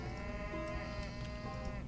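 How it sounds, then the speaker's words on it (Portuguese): Cattle mooing in the strategy game Age of Mythology, a brief, faint low lowing over steady game ambience. "Aí, ó, mais vacas."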